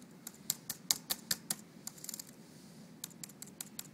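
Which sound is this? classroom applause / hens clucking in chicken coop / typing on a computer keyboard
typing on a computer keyboard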